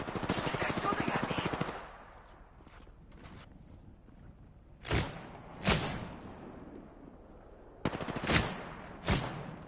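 Gunfire in a PS4 video game, an initial rapid automatic burst followed by several separate loud single shots spaced out in a near-silent background.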